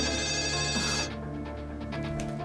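A telephone rings with a bright electronic tone, then continues more softly in a repeating pattern, close and clear.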